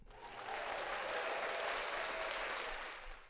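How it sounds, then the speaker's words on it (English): Applause from an audience, a smooth even wash of many hands clapping that swells and holds steady, heard at moderate distance. "I do believe I have an applause."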